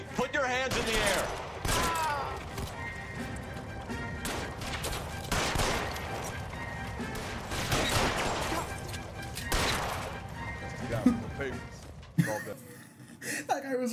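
Video game police shootout gunfire, repeated sharp shots and bursts scattered across a long stretch, mixed with game sounds and people talking over the action.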